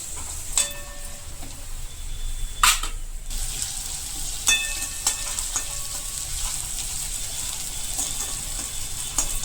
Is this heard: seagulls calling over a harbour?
no